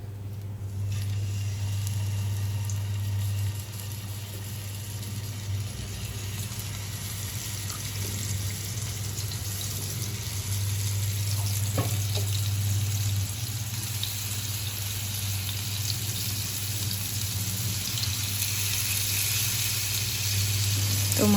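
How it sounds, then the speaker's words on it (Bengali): Fish frying in a pan gives a continuous loud sizzle and crackle throughout, steady and close, with a constant low hum underneath and no talking. "তো মাছ ভাজা এখানে হচ্ছে।"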